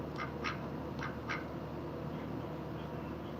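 A pet duck gives a few short, faint quacks in quick pairs early on, then falls quiet over a steady low hum of indoor background noise.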